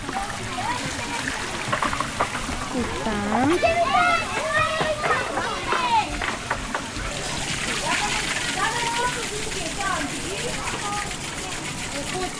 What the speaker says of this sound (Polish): ta cała woda leci tam dużo